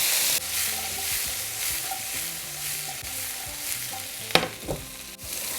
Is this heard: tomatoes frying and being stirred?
yes